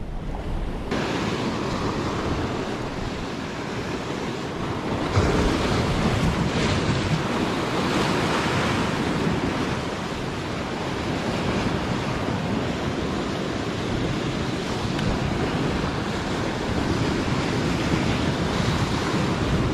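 Sea swell breaks on a remote shore during bass fishing, a loud, unbroken roar of surf mixed with gusty wind noise on the microphone, with no voices.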